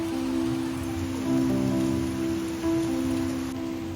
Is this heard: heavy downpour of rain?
yes